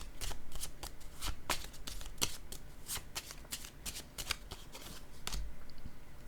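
Tarot cards being shuffled by hand in repeated crisp riffling strokes, close and steady, with no talking.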